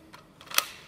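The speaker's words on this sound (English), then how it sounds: "Battery back in," A battery clicks into a cordless circular saw with a couple of short plastic clicks, the last one the sharpest, close up in a quiet room.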